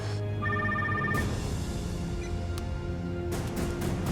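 A telephone rings indoors, a short electronic trill near the start followed by another burst near the end, over low background hum and scattered clatter.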